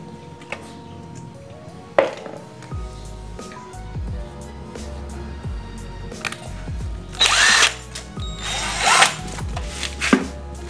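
A power tool whirs in repeated short bursts as it tightens motorcycle clutch parts on a Jupiter, with sharp metallic clatters and a few louder impacts between the runs, close and clear with no talking.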